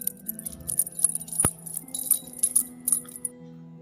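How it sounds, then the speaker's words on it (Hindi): Anklet bells jingle in repeated light, bright shimmering bursts over a soft musical drone, with a single sharp accent partway through, as a sound effect in a Hindi horror story about a haunted school. "पायलों की आवाज़ आने लगी।"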